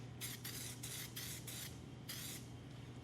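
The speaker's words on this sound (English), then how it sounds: "they got this patina sauce spray" Patina sauce sprayed from a can onto a truck's bodywork, around the lettering: five or six short hissing bursts in quick succession, then a pause and one more burst, close and fairly loud over a steady low hum.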